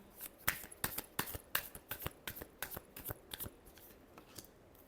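A deck of tarot cards is shuffled by hand in quick, rhythmic riffles, each pass giving a crisp, papery flutter, close and steady, with no one talking.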